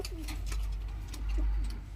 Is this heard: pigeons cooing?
yes